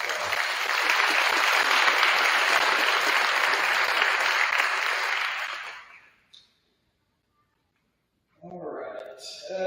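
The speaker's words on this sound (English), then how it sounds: "give yourself a round of applause" Audience of parents applauds at a high school athletic awards ceremony, a full steady clapping crowd lasting several seconds before fading to silence, then a voice begins talking.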